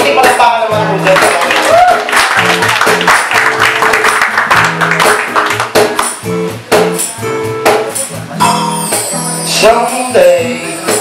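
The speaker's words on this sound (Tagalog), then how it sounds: "Pwede malakpakan naman po dyan." An audience at a charity acoustic night in Ibaan, 2014, claps steadily. Dense, rapid hand claps roll on for several seconds, mixed with tonal voices and music.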